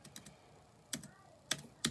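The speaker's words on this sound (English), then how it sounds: "look at the typing" Keystrokes on an OMOTON KB505 Bluetooth keyboard: a few sharp, close clicks in irregular bursts, with quiet gaps between taps and no talking.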